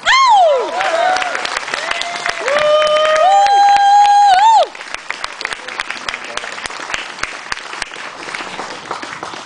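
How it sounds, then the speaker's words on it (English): Scattered clapping from a talk audience, crisp and uneven, with a bright wavering tone sliding up and down over it for the first half before the claps continue more sparsely on their own. "a very warm round of applause, please"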